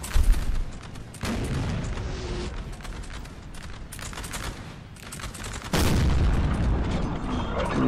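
Napoleonic cannon and musket fire in Napoleon Total War with a Napoleonic III mod, a dense barrage of booms and crackling volleys with heavy low-end thumps that swell sharply near the end.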